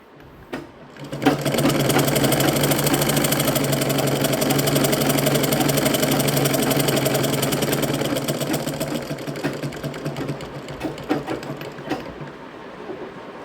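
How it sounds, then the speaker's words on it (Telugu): A sewing machine double-stitches the shoulder seams of a lined blouse, its needle chattering in a fast, loud, steady run close by, then slowing and easing off toward the end. "ఇప్పుడు మనం డబల్ కుట్టేస్తున్నాము భుజాలకి"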